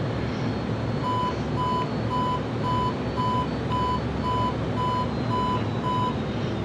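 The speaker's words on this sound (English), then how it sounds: "it's got to be a terrain warning of some sort" Evenly spaced warning beeps, about eleven short tones, repeat at a steady rhythm in the cockpit of an F-14D Tomcat in Microsoft Flight Simulator 2020 over Kuwait City, above a constant loud roar of jet engine and wind.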